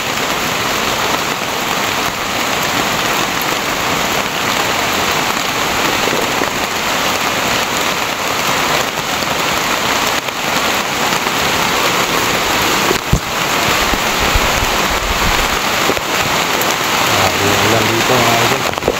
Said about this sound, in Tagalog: hanap tayo ng mataguan natin kasi sobrang lakas na ng ulan